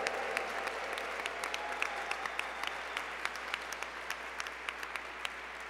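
An audience at an awards ceremony applauds steadily, a dense patter of many hands with a few sharper claps standing out, moderately distant and without voices.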